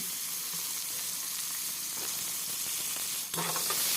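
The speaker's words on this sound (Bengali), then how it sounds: "পেঁয়াজটা হালকা ভেজে নিতে হবে" Chopped onion fries in oil with whole cumin and dried chillies, giving an even, close crackling sizzle with light stirring near the end.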